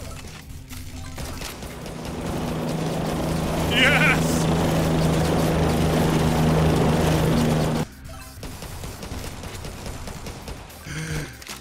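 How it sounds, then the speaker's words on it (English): A helicopter strike in the zombie survival video game Yet Another Zombie Survivors sweeps overhead as a loud, sustained rotor drone that builds and then cuts off abruptly, with a brief spoken word near the start. "Helicopter flies by every 45 seconds, carnaging all zombies away."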